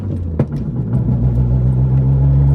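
A modified Suzuki Cappuccino kei car engine revs up during a rev-matched downshift and holds a steady, rising drone close by, with a brief clunk just before the revs climb.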